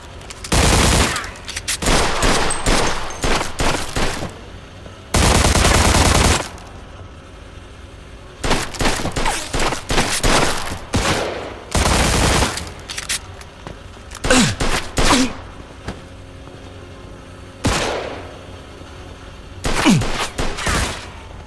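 Loud bursts of gunfire in the video game Mafia II, with rapid automatic volleys and single shots in irregular clusters separated by short quiet gaps.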